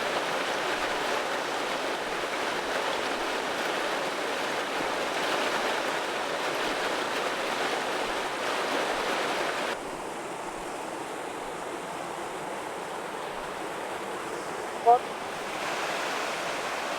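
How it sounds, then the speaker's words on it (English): A steady, even rush of falling water from Argyle Waterfalls in Tobago fills the air at a moderate distance, unbroken throughout. "We're approaching to the waterfall right now."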